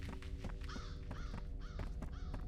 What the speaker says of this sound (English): Loud ass crow.